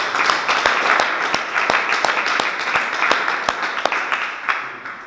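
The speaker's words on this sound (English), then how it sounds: "Let's give ourselves a round of applause." An audience gives a round of applause, a dense wash of many hands clapping steadily with a few louder individual claps standing out, fairly close and sustained throughout.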